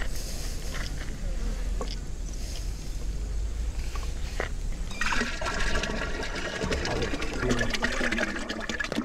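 Amruthajalam solution being mixed into 200 litres of water, a continuous sloshing, gurgling wash of liquid that churns louder in the second half, with insects buzzing close by throughout.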